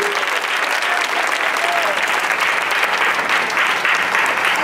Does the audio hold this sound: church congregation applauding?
yes